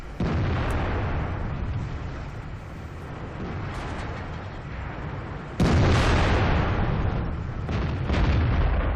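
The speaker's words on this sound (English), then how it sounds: "I'm pretty confident that shot went into the FCM, the French Tier 8 heavy tank." Tank gunfire in World of Tanks from a T28 HTC tank destroyer, a deep explosive boom landing over a continuous loud rumble of engine and battle noise, with a sharp surge of blast midway.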